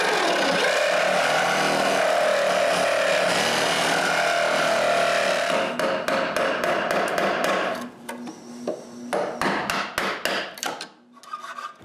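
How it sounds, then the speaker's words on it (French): A metal file rounds the corners of a metal snowmobile sled hitch, first a long, loud, continuous rasp, then a run of sharp, rhythmic strokes that taper off, close up with no talking. "Pour arrondir les coins, j'utilise une lime à métal."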